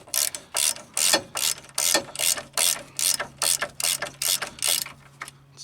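A ratchet loosens a strut knuckle bolt on a car, clicking in rapid, evenly spaced bursts of about a dozen close, sharp strokes, with a faint steady hum underneath.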